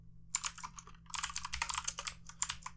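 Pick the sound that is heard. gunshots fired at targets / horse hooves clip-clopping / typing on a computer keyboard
typing on a computer keyboard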